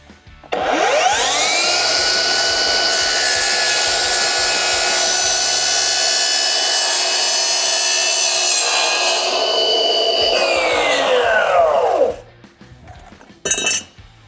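A power saw spins up and cuts through an Armstrong AXIOM trim piece at an extreme angle, a loud sustained whine lasting about eleven seconds before winding down, followed by a brief clink.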